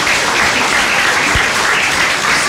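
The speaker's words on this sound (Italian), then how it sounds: "È un applauso di ringraziamento al signor Sindaco e un benvenuto al nostro arcivescovo." Dense, steady applause from a church or civic gathering in Morra de Sanctis, thanking the mayor and welcoming the archbishop, sustained and fairly loud throughout with no pauses.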